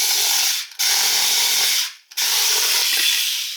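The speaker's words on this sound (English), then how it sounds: "Now let's cut through 3 different thicknesses of cardboard." A Parkside PMSA 4 A1 4V cordless multi-cutter saws through cardboard in two long bursts of buzzing, scratchy cutting with a short pause between them. A third pass starts after the pause, and all of it sounds up close.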